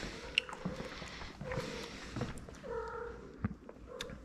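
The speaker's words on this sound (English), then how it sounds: "Hear him purring at me." A cat purrs softly and close by, with a few faint chirps and small rustling sounds.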